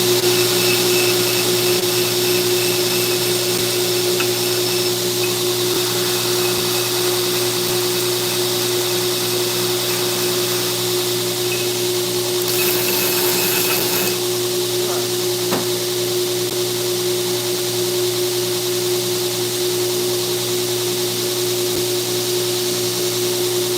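A belt grinder works a knife blade, a steady loud whirring drone running without break throughout, with a brief brighter scraping swell near the middle.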